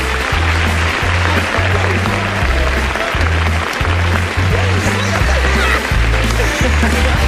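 Studio audience applause at a comedy sitcom magic act, a steady bed of clapping throughout with a rhythmic, booming music beat pulsing underneath.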